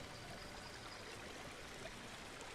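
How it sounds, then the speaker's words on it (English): A waterfall in a jungle cave section of a Planet Coaster dark ride, in a video game, makes a soft, steady rushing wash throughout, faint and without any voices. "Look at the waterfall."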